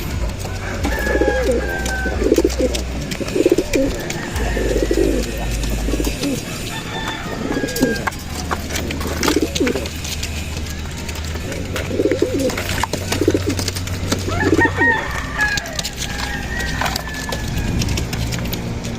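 Pigeons at a loft coo and peck at peanuts, soft repeated low coos mixed with scattered clicking pecks and wooden knocks, close by and steady over nearly twenty seconds.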